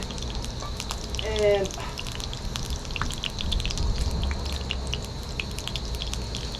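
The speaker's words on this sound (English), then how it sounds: "I am getting that Crisco warmed up. There's still some water in the pan, so it's splashing all over." Crisco oil heating in a pan with leftover water in it, giving faint scattered pops, crackles and light sizzling spatter beneath a speaking voice.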